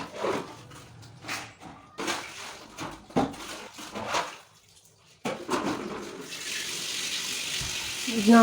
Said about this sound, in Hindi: मैं पानी डाल रही हूँ अच्छे से, ताकि यहाँ पर जो फूस गिरा है वो सारा साफ हो जाए।